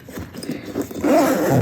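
A backpack zipper being pulled open, a short raspy zip that grows louder and denser in its second half, close up and alone.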